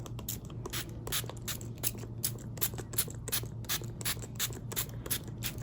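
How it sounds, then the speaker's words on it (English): Rapid, repeated spritzes from a pump spray bottle misting gouache paints, a quick series of short hissing squirts over a low background hum. "So let's spray all of these."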